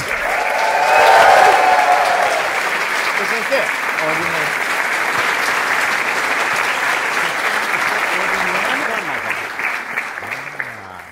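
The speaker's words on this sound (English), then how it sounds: "Please raise the roof for Edgar Wright" Loud, sustained audience applause fills a lecture hall at a film school address, swelling early then holding steady as a dense crowd of clapping hands.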